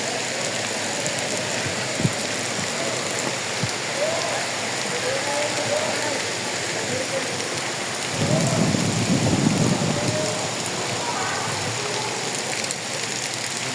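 Heavy monsoon rain pours steadily on a riverbank at Motir Hat, Kamalnagar, Lakshmipur, by a rough, churning river, a dense constant hiss, with a rumble of thunder swelling midway and faint voices in the distance.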